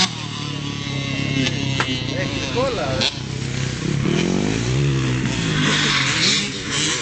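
A faulty motorbike engine revs and rumbles nearby, its pitch rising and falling, while people talk over it.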